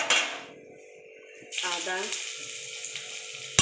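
Ginger and bay leaf sizzle in hot oil in a pan while chhanar kaliya is cooked, a bright hissing fry that quiets and then flares up again, with light clinks of utensils.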